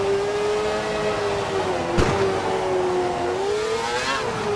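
A Formula 1 car engine in the F1 2012 video game hums at a steady, high-pitched whine that climbs as it accelerates, with a sharp thump partway through.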